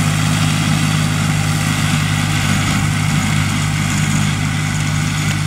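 Tractor with a 2.9-litre, roughly 75-horsepower engine running steadily in a dry field, a loud continuous low droning hum close by throughout, with no speech.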